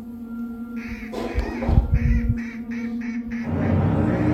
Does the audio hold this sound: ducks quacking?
yes